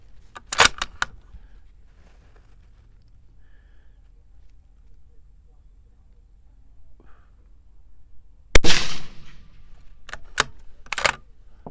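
A .223 precision rifle test-firing 77-grain TMK loads over 8208 XBR powder: two sharp, loud reports several seconds apart, each with a brief decay, followed by a few lighter clicks and knocks in a mostly quiet setting.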